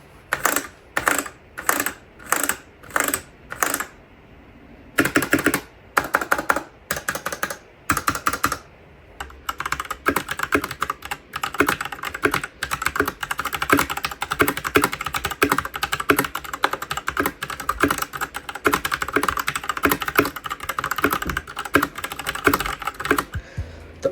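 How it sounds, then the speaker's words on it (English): Typing on a Geeky G65 hot-swappable keyboard with a plastic case. It starts with separate bursts of key presses and then settles into fast, continuous clacking, close and clear, with no voices. "let's get into the keyboard sounding test"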